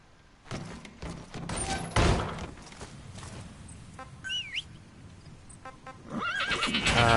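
D-Horse from the video game Metal Gear Solid V neighs and whinnies in two drawn-out calls, with hoof clip-clops and game sound effects around them.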